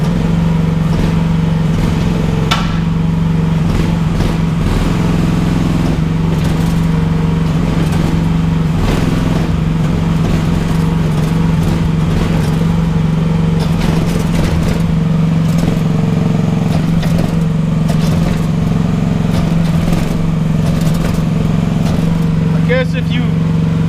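An AGT L12R cheap Chinese mini excavator runs with a loud, steady diesel drone. Rattly clatter rides over the engine throughout, with small shifts in load.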